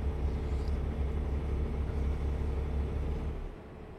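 A Peterbilt truck engine in American Truck Simulator drones low and steady, a dense rumble that holds even and then drops off a little near the end, with no one talking.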